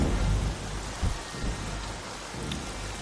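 Rain pours hard under a rolling thunderstorm, with deep thunder rumbling in low surges over a constant heavy hiss of falling water.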